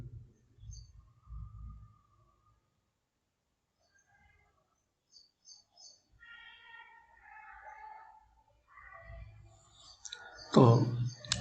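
Computer mouse clicks while working in Illustrator: scattered light clicks among soft tonal sounds, with one sharper, louder click near the end.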